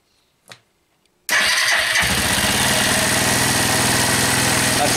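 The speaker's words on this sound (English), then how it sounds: "Running the choke on, engine is completely cold" A cold Suzuki TU 250 X motorcycle engine is started with the choke on, catching abruptly after a faint click and settling into a loud, steady, rough idle that fills the rest of the clip with no talking.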